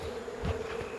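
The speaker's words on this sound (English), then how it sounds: "the bees will fly back up because it's the way they used to" Honey bees swarm in an open-air colony, giving a close, steady buzzing drone with a brief louder swell midway through.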